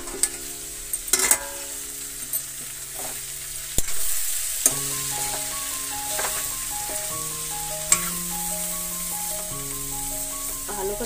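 Cauliflower and potato tossed with turmeric, coriander powder and spices in a frying pan: a spoon scrapes and stirs with scattered clacks over a constant low sizzle, close by and with no voices.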